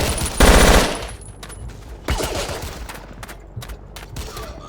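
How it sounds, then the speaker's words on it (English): Zastava M70 assault rifle fire in the Battlefield Yugoslavia game on a 1991 Krajina map: a loud close burst of automatic shots, then scattered single and short bursts, some farther off, over battle noise. "I'm currently using a standard issue Zastava M70 assault rifle to make sure that the Croats don't"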